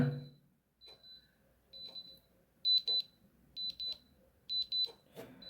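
Small electronic beeps from Soundcore R50i earbuds' find-device function sound in short repeated bursts, faint and close, with quiet pauses between them.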